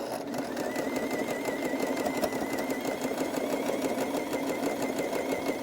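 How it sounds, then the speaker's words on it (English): Old 1960s-era household sewing machine running steadily, a fast continuous mechanical chatter with a faint whine, close and unbroken throughout. "I think it's obvious that this is not a fancy sewing machine"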